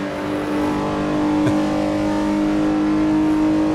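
A Porsche 906 E race car drives a bumpy historic 1960s circuit in the Assetto Corsa racing game, its engine a loud, steady droning hum held at near-constant revs throughout.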